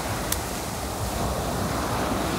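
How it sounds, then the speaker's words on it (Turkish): Large waves breaking on a beach, heard as a continuous loud roar of surf mixed with wind noise on the microphone, with no talking. "Çok da gitme ama, dalgalar büyük."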